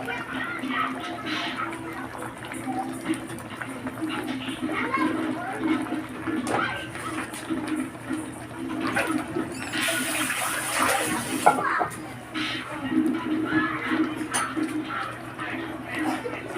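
Milkfish slipped into a pot of simmering miso sinigang broth makes a watery splash and a slosh over steady bubbling, with a brief sharper burst of liquid midway.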